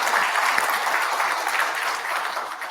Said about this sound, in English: Let's give a special round of applause for our 3 keynote speakers.